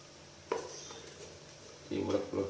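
Cooked rice, not the kind meant for frying, pressed and mashed in a pan during Indonesian home cooking: a single metallic clank, then a run of close scraping and pressing strokes near the end.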